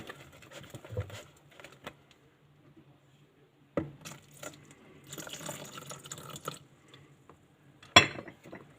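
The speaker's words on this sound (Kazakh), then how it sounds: "Енді бұл жерге сүтті қосамын. Жаймен аз-аздан." Milk poured slowly into pancake batter in a home kitchen: soft drips and thin liquid trickles come in short bursts, with an occasional clink of a utensil against the bowl and no talking.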